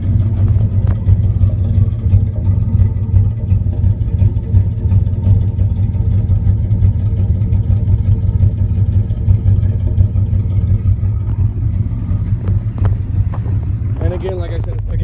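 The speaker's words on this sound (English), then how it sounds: "You can hear that misfire." A 1998 Dodge Ram with the 5.9L Magnum V8 idles with a misfire, a loud, close, steady low engine drone with an uneven beat and no talking over it.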